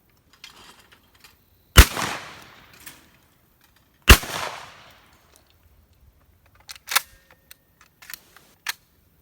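Shotguns fire at clay targets on a sporting clays course, two sharp, loud reports a couple of seconds apart followed by fainter distant shots, with quiet pauses between.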